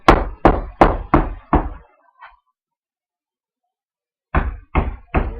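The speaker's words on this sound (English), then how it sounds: "Take your hammer. Knock it in." A hammer drives tacks into chair upholstery with five sharp, close knocks in a quick even rhythm, then a faint tap and a long pause before three more strikes.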